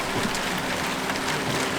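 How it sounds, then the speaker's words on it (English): Steady rain falls outdoors, a continuous dense hiss of drops striking surfaces close by, even and unbroken with no voices. "now the rain has started"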